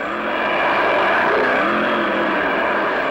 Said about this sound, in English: This is the actual sound of the most amazing racing car ever invented.